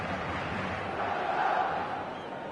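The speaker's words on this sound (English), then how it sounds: "the crowd level has gone up a notch or 10" A virtual stadium crowd in eFootball 2026 on PS5 roaring during a Champions League match, a loud, sustained rumble of cheering that swells slightly in the middle.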